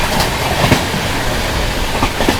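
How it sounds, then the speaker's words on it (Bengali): New Delhi Duronto Express passing at high speed, heard as a loud rushing roar with rhythmic wheel clatter over rail joints, close by. "সাইড দিয়ে যাচ্ছে ট্রেন নাম্বার 12274 নিউ দিল্লি দুরন্ত এক্সপ্রেস"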